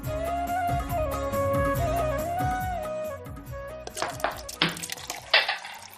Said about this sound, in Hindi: बर्तन ही धुलते रहेंगे